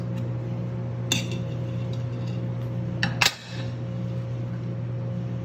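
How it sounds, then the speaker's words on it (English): Cooked black rice is served from an Instant Pot into small containers: a few clinks and scrapes of a utensil against the pot and the containers, two sharp knocks among them, over a steady hum from the room. "I'm just going to put it in one of these little containers"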